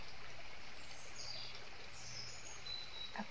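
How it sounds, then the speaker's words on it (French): A river flows in a soft, steady, distant rush, calm and continuous, with a few faint bird chirps above it. "Servez-vous de ce bruit de rivière, de ce son apaisant"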